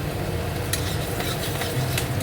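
Garlic and chopped green chili frying in oil in a wok, a close, loud sizzle with some stirring and scraping against the pan throughout the short stretch, with no talk.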